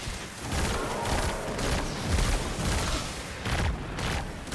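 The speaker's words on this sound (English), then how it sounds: "I'm using this pulse rifle" Continuous rapid burst fire from a pulse rifle in the video game Destiny 2, loud and dense across the whole stretch with faint talk far underneath.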